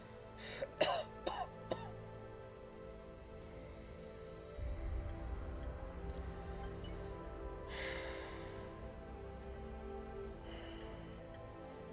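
A few short, sharp coughs and throat-clearing sounds up close, followed by quieter heavy breathing and rustling.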